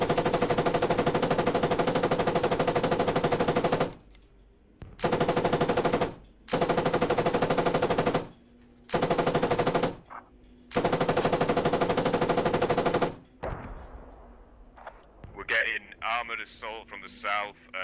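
Machine-gun bursts in a military video game, with a tank and an APC attacking: several long, loud automatic-fire strings separated by short gaps, then sharper scattered shots and radio chatter.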